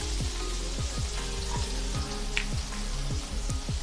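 Garlic, chopped green chillies, cumin and asafoetida sauté in hot ghee, a steady close sizzle and crackle, with soft rhythmic thuds from stirring.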